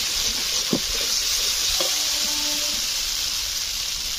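Fish laid into a pan of browned potatoes and cooked taro stolons, giving a steady close sizzle and hiss with a few brief stirring clatters.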